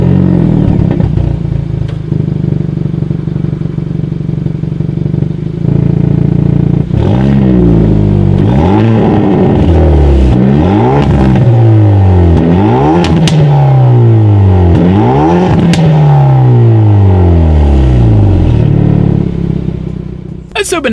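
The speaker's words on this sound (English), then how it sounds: "here is that exhaust clip" A 2019 Hyundai Veloster's exhaust with a variable exhaust valve idles loudly, then revs again and again in sharp rising and falling bursts, close by.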